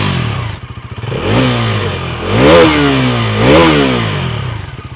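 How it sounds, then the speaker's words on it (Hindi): A Bajaj Pulsar NS400 motorcycle idles with a throbbing exhaust note, then takes three quick throttle blips that rise and fall, heard up close with no talk. "आइडियल कंडीशन पर इंजन साउंड सुनिएगा। एग्जॉस्ट नोट मैं थ्रॉटल देता हूँ।"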